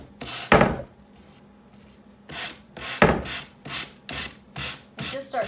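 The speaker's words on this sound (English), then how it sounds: "I'm going to take a sanding block" A sanding block rubs along the edge of gift wrap paper glued to furniture, giving close, rasping strokes in short bursts with pauses between them.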